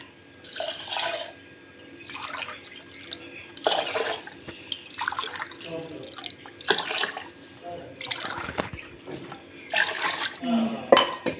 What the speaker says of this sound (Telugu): ఫైవ్ గ్లాస్ అయితే వాటర్ అయితే వేస్తాను